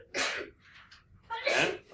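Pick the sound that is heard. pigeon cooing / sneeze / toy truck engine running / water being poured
sneeze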